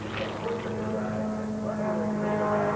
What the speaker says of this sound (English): a pusher aircraft, so named because the propeller is in the rear